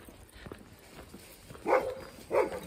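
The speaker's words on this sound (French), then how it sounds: "Un petit chien, quand même" A small dog barks twice in quick succession, moderately close, with fainter yips before it, against quiet ambient background at the arrival point of a Camino walking route to Santiago de Compostela.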